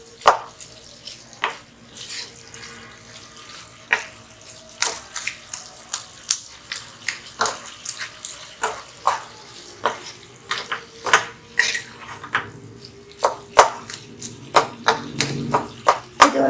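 A spoon stirs minced chicken and purple cabbage curry in a pan, giving repeated scraping and clinking strokes in an uneven rhythm over a soft wet bubbling sizzle, close and clear.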